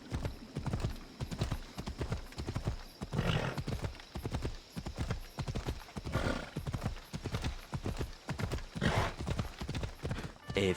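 Horse hooves clip-clop in a steady riding rhythm across Kephallonia in Assassin's Creed Odyssey, close and even-paced, with a few brief snorts or whinnies breaking through the repeated hoofbeats.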